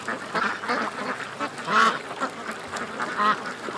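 A duck with an injured leg, swimming, gives a series of loud nasal quacks at irregular intervals, with softer paddling and water sounds between calls.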